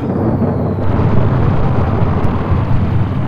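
A small explosive charge detonating in the AquaNox video game intro, heard as a loud, continuous, booming roar that rumbles steadily and unbroken for several seconds.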